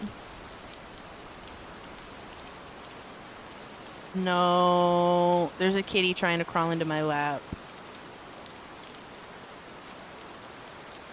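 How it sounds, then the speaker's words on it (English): Steady, soft rainfall patters throughout, while a nearby voice speaks briefly over it partway through. "You can listen to the rain with me if you want."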